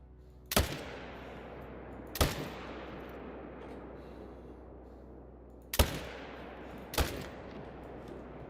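Four sharp rifle shots ring out at whitetail deer in theHunter: Call of the Wild, spaced irregularly with a pair close together early and two more later, each followed by a long decaying echo over quiet forest ambience.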